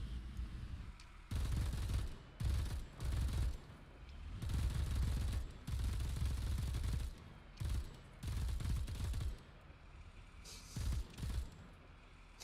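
Machine gun fire in War Thunder, bursts of rapid automatic shots from a vehicle's rear gun in repeated clusters separated by brief gaps, moderately loud, no talking.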